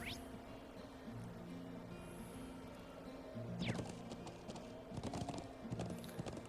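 Quick clip-clop of horse hooves in The Legend of Heroes: Trails of Cold Steel, irregular and stuttering from a glitch, rising in bursts over a low droning background hum.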